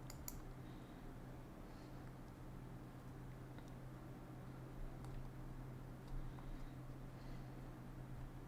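Faint keystrokes and clicks on a computer keyboard as a password is typed, a few soft taps scattered over a steady background hum.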